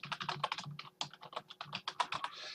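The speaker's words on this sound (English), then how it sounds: "So I'm going to type in here," Rapid typing on a computer keyboard while entering a search phrase into a WordPress page, a close, steady run of crisp key clicks with brief pauses and no talking.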